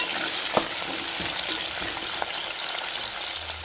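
Shallots, garlic and green chillies sauté in hot oil for a spicy onion kulambu, giving a steady, close sizzle and crackle with a few soft stirring knocks and no voices.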